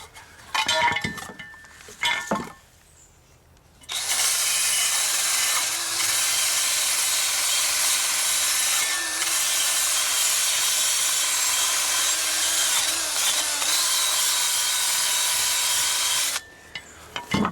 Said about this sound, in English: I found a drill and a wire wheel here and a pair of safety glasses. Let's see if we can't clean things up a little.